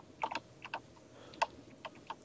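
Quiet typing on a computer keyboard during a Minecraft game, a short irregular run of soft clicks and key taps heard up close and on its own, with no talking.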